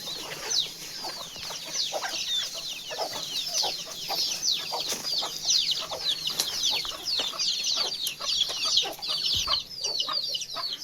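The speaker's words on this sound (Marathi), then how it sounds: "ज्वारीची कणसं पाला कोंबड्या खात्यात." A flock of farm chickens cluck and chirp busily while eating sorghum heads and leaves, a dense, continuous chatter of many birds close by with no talking.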